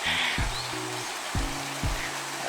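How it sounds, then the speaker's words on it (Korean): A mountain valley stream in Pyeongchang, Gangwon-do, rushes steadily beside a deck, a constant broadband wash of flowing water with a few low electronic or mechanical tones briefly heard over it. "계곡의 물소리가 그죠"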